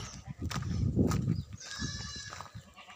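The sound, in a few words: goats bleating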